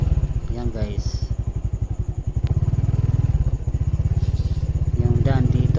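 Honda XRM125 motorcycle ridden off-road on muddy rural trails, its small engine putting out a close, choppy putter that rises and falls with the throttle, with a rider talking over it.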